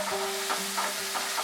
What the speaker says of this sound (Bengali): মশলাটাকে 1 মিনিট মতো আমি একটু কষিয়ে নিচ্ছি।